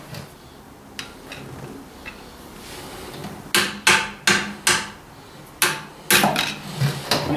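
Chisel struck with a hammer against worn Ford 800 tractor parts, a handful of sharp metallic blows, sparse at first and then in a quicker run of loud, ringing hits close by.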